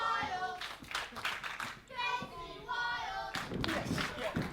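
Wrestling crowd at an independent show claps in support of Casey Wilde during his match against Colt Miles, scattered rhythmic hand claps sitting beneath a commentator's close, dominant voice.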